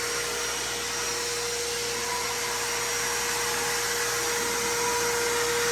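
An ECOMAX 5-gallon stainless steel wet/dry shop vacuum with a 4 HP electric motor runs continuously, giving a loud, steady whine and rush of air with no pauses throughout.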